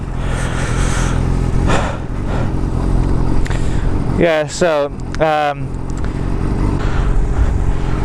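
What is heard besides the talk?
sport motorcycle engine warming up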